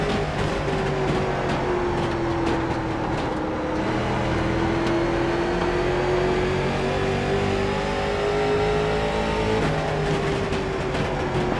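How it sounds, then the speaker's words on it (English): A simulated late model race car engine at Nashville in iRacing holds a loud, continuous high drone that rises and falls gently as the car works around the track, with no voices over it. "I forgot how fun this car is."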